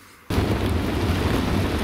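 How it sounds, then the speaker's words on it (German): Heavy rain in stormy weather starts abruptly as a loud, dense roar with deep rumbling, close and continuous, with no voices. "Geiles Regenwetter!"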